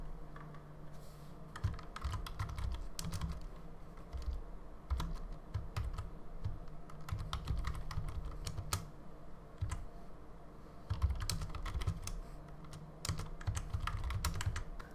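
Steady typing on a computer keyboard while a database query is written, a close, continuous patter of key clicks with brief pauses and no talking.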